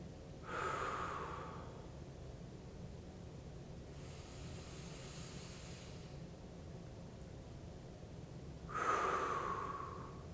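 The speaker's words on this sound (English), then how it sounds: "But we want that full inhale." Deep, full breaths during a low-intensity workout: two loud breathy inhales or exhales, one near the start and one near the end, with a softer breath in between, heard alone against a quiet background hiss.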